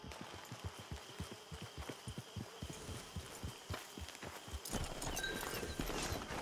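Horse hooves clip-clopping at a steady walking rhythm in Red Dead Redemption 2, fairly close and moderately loud, giving way to a rising wash of ambient noise near the end.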